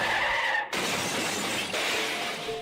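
A car crash: tires skid with a loud harsh screech, glass shatters sharply partway through, and the skid noise continues after it, loud and close with no voices.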